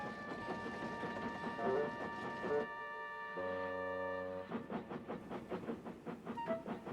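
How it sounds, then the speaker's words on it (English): A Tomy/Trackmaster toy train engine pulling freight cars runs with rhythmic clicking and motor whir, interrupted midway by a bright tonal whistle-like melody before the clattering resumes, all fairly close. "Oliver pulled some loaded cars to a siding and pushed the empties to the chute."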